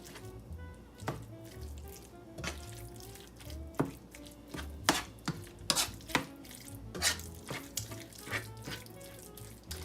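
Cooked rice, beans and meat are stirred together in a pan, giving irregular scraping clacks and soft wet knocks over a faint sizzle, with no voices.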